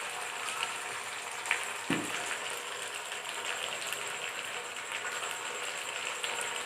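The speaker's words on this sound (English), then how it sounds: "Saute all the ingredients." Vinegar, ketchup and soya sauce sizzle in a pan while being sautéed for honey chilli potato, a constant close frying crackle with a brief clatter of stirring partway through.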